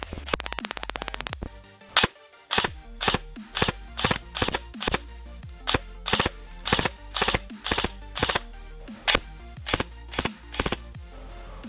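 Airsoft Scorpion Evo firing fully automatic at a mesh mask: a short buzzing burst, then a steady run of about seventeen sharp, loud cracks in quick rhythm.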